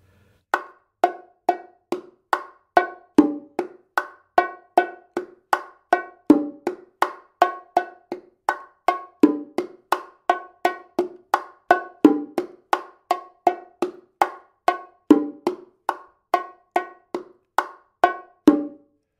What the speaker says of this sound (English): So the martillo sounds like this when I make the open tones with my left hand.